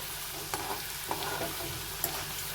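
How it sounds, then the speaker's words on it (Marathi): Sliced potato pieces deep-frying in hot oil over a high flame make a dense, even sizzle with occasional soft clicks and stirring scrapes. It is fairly quiet and close, and nobody talks. "हाय फ्लेमवर आपल्याला हे बटाट्याचे जे चिरलेले काप आहेत तर ते तळून घ्यायचे"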